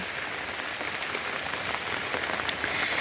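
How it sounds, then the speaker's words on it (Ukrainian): Steady rain falls outdoors on a strawberry-growing spot, an even, dense hiss of drops on surfaces that holds for about three seconds, close and continuous with no voices. "Можливо, дощ перестане"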